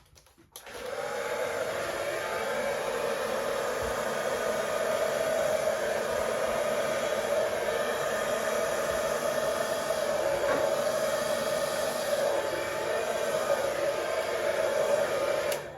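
Air is blown across poured acrylic paint on a canvas in a Dutch pour, a loud, steady whooshing blower noise that switches on sharply and runs unbroken, close by, with no talk.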